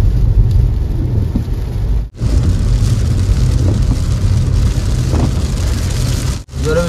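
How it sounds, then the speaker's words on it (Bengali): Heavy rain roars during a rainy-season road trip from Howrah toward Uluberia, a dense, loud downpour with deep rumbling thunder underneath and two brief drops in sound. "জোরে বৃষ্টি হচ্ছে"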